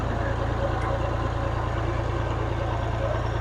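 A farm tractor idles close by at a steady, even rumble, the low engine drone continuous and unchanging throughout with no other activity standing out.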